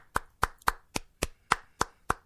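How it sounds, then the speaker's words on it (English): Eight sharp, evenly spaced hand claps made close into a microphone, loud and dry, one roughly every third of a second with no voices. "I'm clapping into the microphone"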